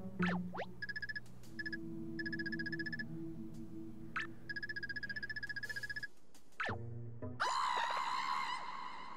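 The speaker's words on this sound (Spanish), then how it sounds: "ese grito es de Toad" A Toad character screams in the video game Paper Mario: Color Splash, with a high, sustained cry near the end that follows stretches of chirpy game music and bouncy effects.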